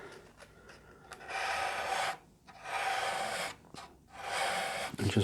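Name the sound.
sanding pad, 240 grit, sanding a guitar body chamfer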